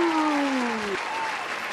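Crowd applause fills the scene as a dense, steady wash of clapping, while a descending whistle-like tone slides downward over the first second and then cuts off.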